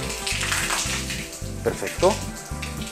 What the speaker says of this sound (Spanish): ya se ve que por aquí va saliendo el agua